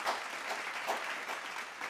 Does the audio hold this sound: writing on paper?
no